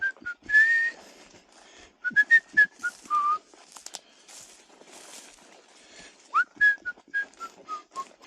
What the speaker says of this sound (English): if you signal your presence by whistling, singing, or just making some noise in general